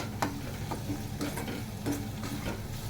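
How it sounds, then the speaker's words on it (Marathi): Onion fries in a pan with ginger-garlic paste as a continuous sizzle, marked by a few sharp ticks and scrapes of stirring close up, with no voices. "कांदा आपला भाजत आला आहे."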